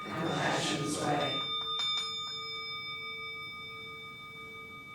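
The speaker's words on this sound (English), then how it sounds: "There are times when we use the bell like that with the chants" A single bell struck at the close of chanting, a clear metallic tone ringing out and slowly decaying over several seconds after the chant voices fade away.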